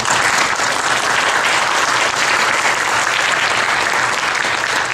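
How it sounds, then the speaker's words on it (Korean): Sustained applause from a church congregation celebrating a baby's birth, dense and steady clapping filling the room at close range for the whole stretch, with no talk over it. "우리 축복의 박수 한번 보내드립니다."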